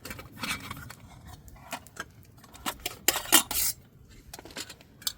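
A cheap, lightweight camping frying pan is handled, giving a close series of metallic clinks, scrapes and rattles of varying loudness, with no talking.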